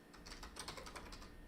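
Fast, faint keystrokes on a computer keyboard as a pip command is typed, a brief quick run of clicks with no talking.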